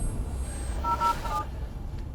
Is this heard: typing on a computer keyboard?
no